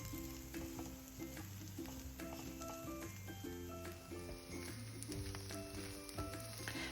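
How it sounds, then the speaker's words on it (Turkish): Steady hissing sizzle of green and red peppers frying in a pan, soft and continuous, with faint background music underneath. "2 tane yeşil biber ve 1 tane kırmızı kapya biberi ekleyip onları da güzelce kızartıyorum"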